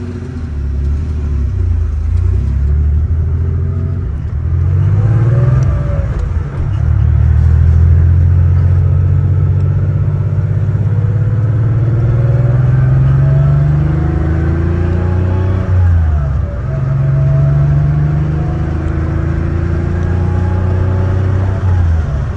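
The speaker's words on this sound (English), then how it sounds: "Yeah, motor sounds great." A 1981 Porsche 911SC coupe engine runs steadily with a deep, rumbling idle, close and loud, with a few gentle rises in revs and no talking.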